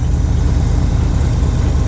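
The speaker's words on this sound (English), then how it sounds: "the engine's running smooth, but barely running" A long-dormant Dodge Power Wagon engine revived after 16 years idles steadily, a loud, close, low rumbling throb with an even rhythm and no talk over it.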